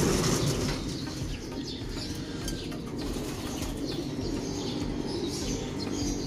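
Racing pigeons come home to the loft, soft cooing and flapping wings over a steady ambient hum, with faint chirps scattered through the recording and no voices.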